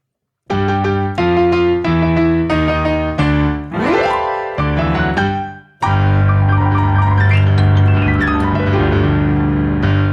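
Solo piano plays a rock-and-roll ending: a run of detached chords, a quick sweeping glissando, more chords, then one full sustained final chord ringing out loud and close.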